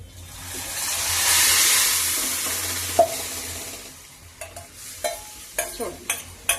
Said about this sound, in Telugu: పోపు చాలా బాగా వేగిందండి. ఇప్పుడు పప్పు వేసేసుకున్నాము.